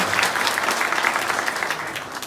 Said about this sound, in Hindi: एक बार जोरदार ताली गुड़िया के लिए बजाओ